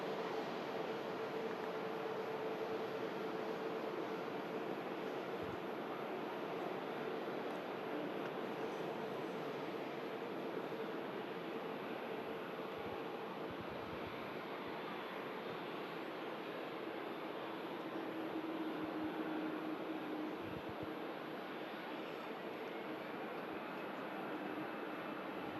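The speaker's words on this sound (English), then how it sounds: "you can see the TUI Dreamliner on the way out" A TUI Boeing 787 Dreamliner departs Manchester Airport with a faint, distant, steady jet roar that holds for the whole stretch with no talk over it.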